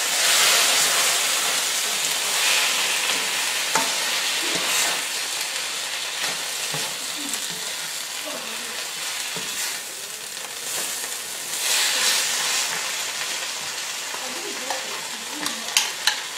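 Chicken and mozzarella cheese are stirred in a frying pan, a steady loud sizzle with scraping and clinking of the utensil against the pan throughout, close up and without talking.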